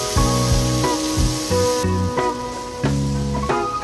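Onion, garlic, cilantro and cinnamon frying in a skillet, a loud, steady close-up sizzle with bright hiss and crackle throughout, no talking.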